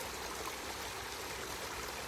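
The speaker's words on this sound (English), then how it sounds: "a natural spring that runs out of the hill about a 1/4 mile up the valley here, and it kind of runs down. There's a tree that dropped, and it splashes over there" Natural spring water runs down from a hillside and splashes over a fallen tree, giving a steady, soft, continuous rushing and trickling wash with no breaks, heard alone at low volume.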